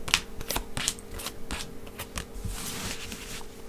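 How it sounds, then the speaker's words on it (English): A deck of cards is shuffled by hand during a card reading spread, giving repeated close, crisp riffling and flicking bursts over a few seconds with no talking. "So now I'm shuffling the cards"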